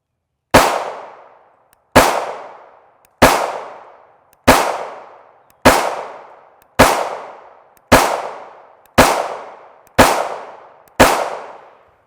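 An FN Five-seven Mark II pistol firing 5.7x28mm rounds: ten sharp, loud shots at an even pace about one per second, each with a short decaying ring.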